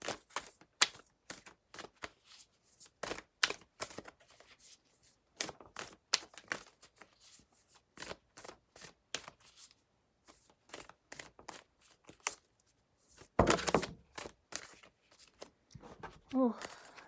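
Tarot cards shuffled by hand in a long run of quick riffling, slapping bursts with short pauses between them, close and fairly loud, with a brief stretch of talking partway through.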